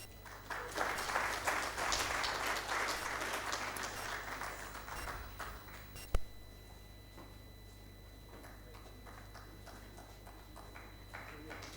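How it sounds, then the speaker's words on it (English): A conference audience at a digital technology event in Africa applauds a speaker, a broad wash of clapping that swells early, then fades and thins into scattered claps with a hum underneath. "I'd like to ask you again, ladies and gentlemen, to clap for Dr. Pantami."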